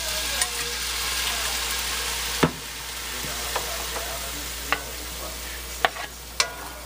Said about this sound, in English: Okay, so the pan's hot again, so we'll add a little red wine in there.